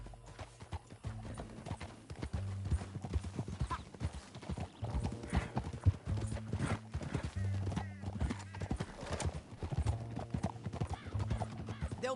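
Rapid rhythmic hoofbeats of a galloping horse with an occasional whinny in the video game Red Dead Redemption, busy and close, with a few voices and game-style effects mixed in.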